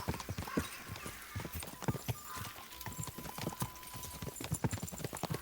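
Rapid, rhythmic hoofbeats of a galloping horse in the video game Kingdom Come: Deliverance II, steady and continuous, with a faint tonal hum underneath and no talking.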